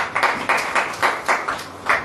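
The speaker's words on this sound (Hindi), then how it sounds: "ताली हो जाओ।" A church congregation claps hands in a steady, rhythmic beat during a Hindi sermon, roughly four claps per second at moderate loudness with no talk over it.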